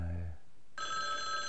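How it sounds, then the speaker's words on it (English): A telephone bell rings in a 1983 film scene, a bright sustained ring starting partway through after a low tone fades, with no voices over it. "You gonna answer the phone?"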